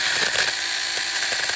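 A mini lithium electric chainsaw pruner from Temu buzzes continuously up close, a bright steady motor whine with faint fluctuations while cutting branches.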